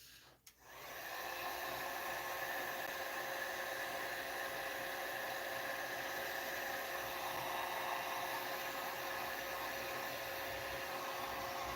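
A hair dryer blows on a freshly 3D-printed figure, switching on with a click and then running as a loud, steady whoosh for several seconds.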